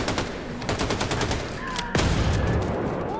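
Rapid gunfire from Wolfenstein II: The New Colossus, a dense run of close shots in fast bursts that swell louder in the second half, with no pauses long enough to separate single rounds.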